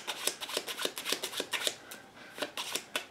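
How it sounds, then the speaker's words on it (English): A deck of playing cards being shuffled quickly, a rapid series of crisp riffling flutters and snaps close up, quiet and with no talking. "see how fast I shuffle up the deck of cards and shuffle up the jacks and the queens."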